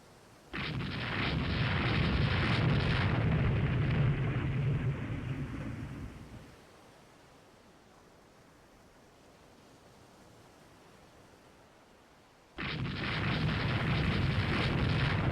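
Naval shore bombardment gunfire rumbles in the strategy game Rule the Waves 3, a loud sustained roaring barrage lasting about six seconds, then a quieter lull, then another heavy burst near the end.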